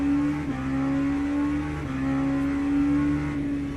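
IDEC LMP2 prototype race car in the sim racing game Le Mans Ultimate, its engine holding a steady loud drone with slight pitch dips and recoveries as it runs, close and continuous, no talk.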